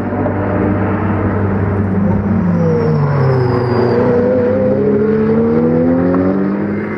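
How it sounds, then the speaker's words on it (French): Race cars at Magny-Cours, a Ferrari and a Porsche battling for second overall, roar past with a loud, sustained engine drone whose pitch sweeps down as they pass close by, without any voices. "la bataille est intense entre la Ferrari d'Alexis Berthet et la Porsche de Yann Penn pour la deuxième place du scratch"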